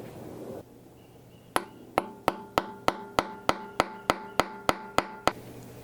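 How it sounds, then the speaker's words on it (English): Thirteen sharp metallic hammer strikes in an even rhythm, driving a bolt extractor into a drilled hole in a broken bolt, close and loud, ringing briefly after each blow, preceded by a quiet pause. "take the extractor piece and put it in the hole that we just drilled"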